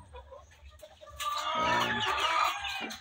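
A mother hen clucks and calls nearby in a rising, drawn-out burst, with other faint fowl sounds around it on a farm.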